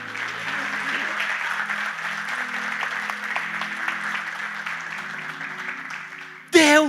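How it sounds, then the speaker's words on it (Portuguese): A church congregation at a Sunday service claps steadily for several seconds, a dense, even wash of applause with music playing underneath, ending in a brief louder burst. "Dê uma salva de palmas para Jesus"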